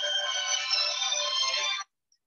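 A phone rings during a lecture, playing a loud electronic tone that holds steady for nearly two seconds, then stops abruptly, leaving silence.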